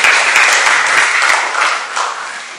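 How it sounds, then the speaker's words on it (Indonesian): A classroom of students applauds together, a loud, close, dense burst of clapping that tapers off slightly toward the end. "Tepuk tangan untuk semuanya"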